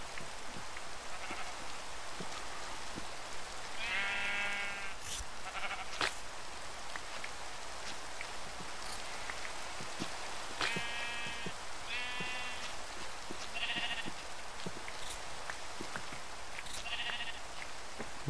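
Blocky sheep in the video game Minecraft bleat several times in short, wavering calls spread across the scene, close and clear over a soft rain-like background hiss with scattered clicks.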